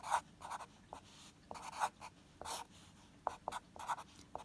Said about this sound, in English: Following the same steps, label my coordinates, write out my equation.